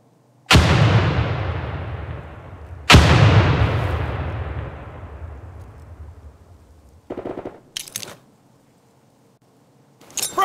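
Two loud, close frag grenade blasts in America's Army 3 during basic training, each a sharp boom trailing off over a couple of seconds, followed later by a few short bursts of rattling noise.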